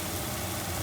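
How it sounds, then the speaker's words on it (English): A steady broadband whoosh of an exhaust fan running, constant and unchanging, filling the brief moment with no other sounds. "I apologize for the loud noise. I do have my fan on"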